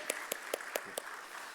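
Sparse claps of encouragement from a church youth worship congregation after a choir's praise song, about five distinct, evenly spaced hand claps, fairly faint in a quiet hall with no talk.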